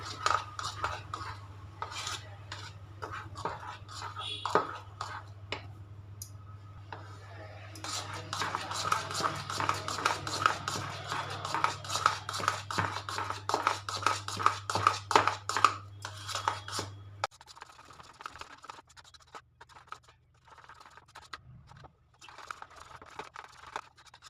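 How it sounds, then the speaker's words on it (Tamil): Lava cake batter stirred steadily in one direction in a bowl, a continuous run of close scraping and clinking spoon strokes against the bowl with a low hum beneath, easing off toward the end. "ஒரே டைரெக்ஷனில் மிக்ஸ் பண்ணுங்கள்"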